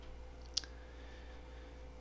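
One sharp computer mouse click on an on-screen OK button, heard alone and close against a quiet, steady room hum.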